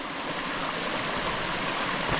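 Avalanche Brook, a mountain stream in the White Mountains, rushes and gurgles close by with a steady, full-bodied wash of flowing water and no voices.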